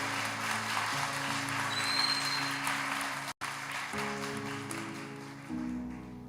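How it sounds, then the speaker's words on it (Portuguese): A church congregation applauds loudly and steadily, a dense wash of clapping with brief dips that carries on throughout. "Vamos aplaudir a palavra de Deus bem forte, mais forte"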